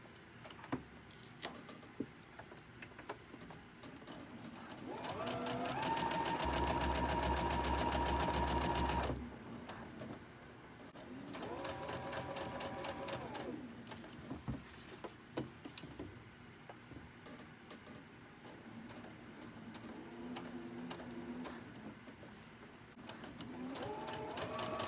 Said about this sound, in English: so I'm going to chain stitch them